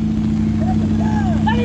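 A 4x4 off-road vehicle with a Toyota 5R engine idles loudly and steadily at a competition in Iba, Zambales, its low rumble running under faint voices and chirpy background sounds.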